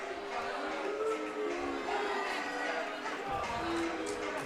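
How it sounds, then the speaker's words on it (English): A crowd at a home-show boxing match in a packed gym boos a boxer, a steady dense roar of voices that carries through the whole stretch with a commentator talking over it. "People booing him."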